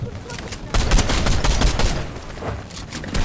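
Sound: gunfire in the video game Fortnite

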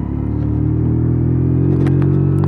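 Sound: WK Scrambler 50cc motorcycle riding around town

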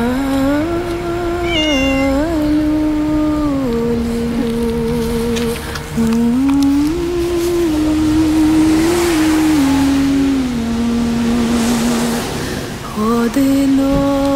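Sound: kittens meowing in the snow

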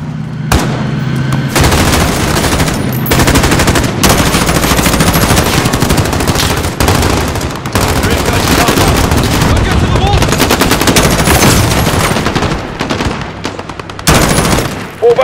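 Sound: gunfire in a firefight, from the video game Call of Duty Modern Warfare

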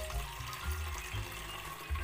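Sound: water being poured to dilute solution

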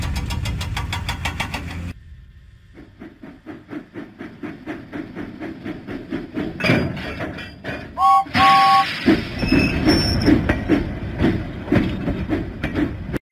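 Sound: steam engine James puffing away, from a Thomas video game

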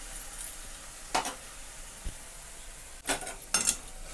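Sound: tomatoes and green chili frying in oil

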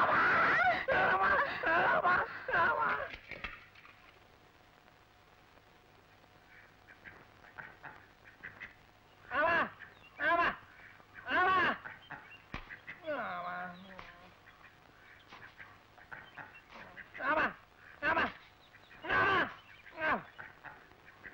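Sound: duck quacking

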